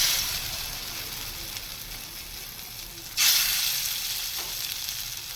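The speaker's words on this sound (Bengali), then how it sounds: "দেখো তেলটা গরম হয়ে গেছে, এখন আমি একে একে বড়াটা ভাজতে দিয়ে দেব।" Mung dal and gourd peel fritters frying in hot oil, a continuous loud sizzle with a sharp burst of fresh hissing partway through as more batter hits the oil, no talking.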